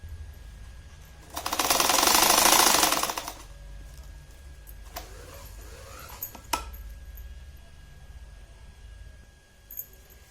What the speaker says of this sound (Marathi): हिच्यावर दाब शिलाई घ्यायची